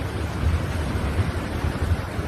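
Beach-break ocean waves in Nicaragua make a steady broadband rushing wash with faint low surges, continuous and moderately distant, with no voices.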